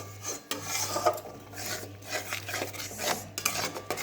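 Spiced egg curry with yogurt is stirred in a pan over a low flame: steady scraping and rubbing of a utensil against the pan, with soft irregular strokes and light clinks, no voices.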